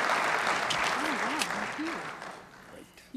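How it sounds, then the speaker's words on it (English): An audience applauds talented young singers at a county show, broad clapping that fades over a few seconds while a voice talks over it. "Let's give them all another round of applause."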